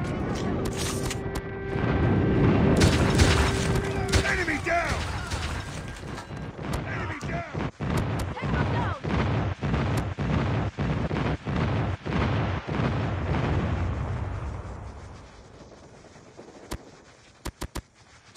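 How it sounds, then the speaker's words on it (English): A friendly airstrike in the Call of Duty Mobile Frontline mode on the Nuketown map: a loud roar and rumble opens, then a long run of rapid, sharp booming explosions in close succession, fading out, with a few isolated cracks at the end. "Friendly airstrike incoming."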